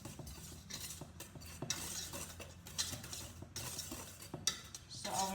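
Dry flour, brown sugar and yeast are stirred together in a bowl for pan de coco dough. A utensil scrapes and clinks against the bowl in a steady, continuous rhythm, close up, with no talking.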